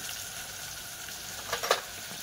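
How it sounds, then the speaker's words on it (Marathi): Onion and potato frying in a pan for a spiced Nilanga rice dish, a steady soft sizzle close by with a couple of brief scraping stirs near the end, no talking. "तर कांदा आणि बटाटा चांगला फ्राय झालेला आहे।"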